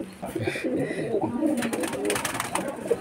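Madras pigeons coo in a loft, low throaty calls repeating near and steady while people talk over them.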